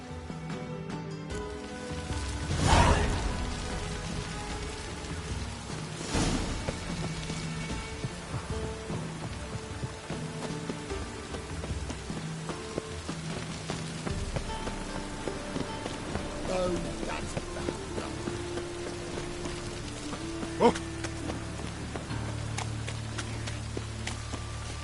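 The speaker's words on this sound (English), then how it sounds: "It's raining again." Steady rain falls in The Witcher 3: Wild Hunt, a constant even hiss with a couple of louder thuds early on and faint background sounds throughout.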